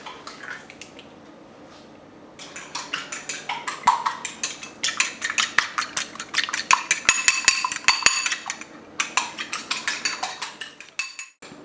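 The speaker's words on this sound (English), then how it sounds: "Now we need to beat 1 egg." A fork or whisk beats an egg in a bowl in fast, rhythmic clinking strokes against the side, close and fairly loud, with no talking.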